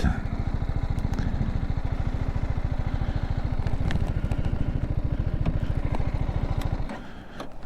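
A BMW G310GS motorcycle's single-cylinder engine runs steadily with a fast, even pulsing throb close by, then drops in level near the end as the revs fall.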